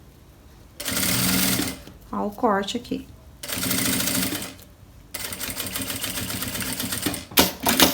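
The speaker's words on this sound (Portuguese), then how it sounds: "vou costurar aqui meu zíper bem alinhado" A sewing machine fitted with a metal zipper foot stitches a zipper onto a crossbody bag, sounding in several close, loud bursts of rapid mechanical clatter separated by pauses, with someone speaking briefly between runs.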